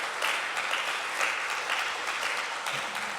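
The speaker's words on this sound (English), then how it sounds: "clap for him, that's right." An audience at a forum on global hunger claps in a dense, steady burst of applause that lasts about three seconds.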